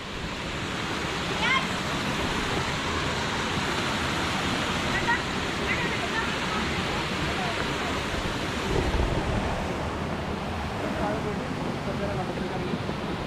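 A forest stream rushes steadily beside a trekking trail on Aranamala in Wayanad, a continuous broadband wash of water, fairly close and even throughout, with voices talking faintly over it.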